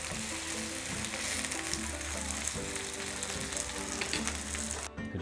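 Pancake batter sizzles and crackles steadily in a hot pan, a close, continuous frying sound with faint clinks in the background.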